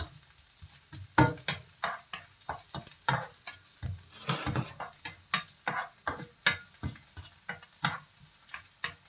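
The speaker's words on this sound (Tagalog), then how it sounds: "Siyempre pag nag-gisa tayo, unahin ng bawang." Garlic sautéing in a pan for a pork liver and tofu dish, heard as a run of spatula scrapes and stirring clatters over a light sizzle, with no voices.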